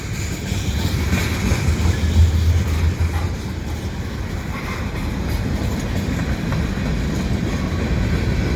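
A CP freight train of 2-bay hopper cars rolls steadily past Dorval station in winter, a continuous loud rumble with wheel clatter on the rails and no talk over it.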